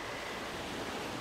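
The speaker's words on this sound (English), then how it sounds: "enjoy the waves that's kicking in the background" Steady ocean waves wash around a boat in a continuous broadband rush, faint and unbroken, with no voices.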